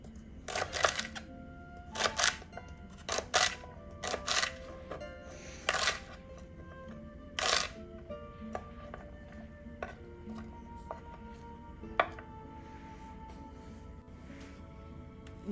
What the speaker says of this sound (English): I'm just going to keep cutting.